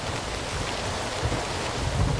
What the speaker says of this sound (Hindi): बारिश हो रही है ना?